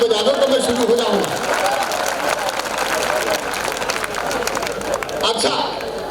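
An audience claps together at a live comedy show, a dense, steady patter of hands running throughout, with a voice talking over the start and the crowd noise underneath.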